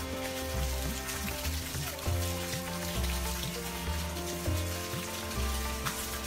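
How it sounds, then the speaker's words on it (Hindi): Natural spring water at Pandav Fall pours down from the hills over rocks, a steady close splashing and trickling flow that stays even throughout with no talk. "ये है पांडव फॉल का प्राकृतिक जल जो पहाड़ों में से, चट्टानों में से आ रहा है"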